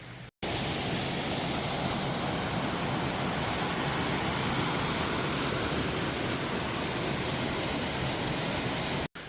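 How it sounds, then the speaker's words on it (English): Steady broadband rush of the Sycamore Falls waterfall, heard from a trail just around the corner from the falls and its pool, a continuous even roar with no voices, briefly cut at the start and end. "The waterfall's right over there around the corner"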